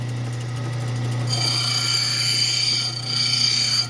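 A gemstone preform grinds against a faceting machine, a steady motor hum joined by a bright, raspy scraping that starts abruptly partway through, briefly dips, and continues close and constant.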